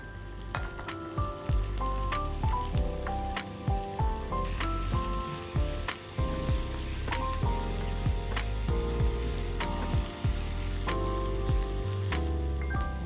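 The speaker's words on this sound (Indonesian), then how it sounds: "Nah, sekarang masukin bawang bombay." Onion sizzles steadily in a hot pan with garlic and salt for a baby-food pasta, a continuous close crackle broken by frequent light clinks and scrapes of a utensil against the pan.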